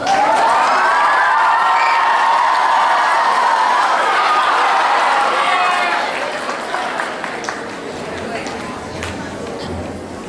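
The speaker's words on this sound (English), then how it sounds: "Two big claps for that speech." A crowd cheering and clapping after a candidate's speech, loud and dense at first with shouting children's voices, then fading into scattered claps and chatter.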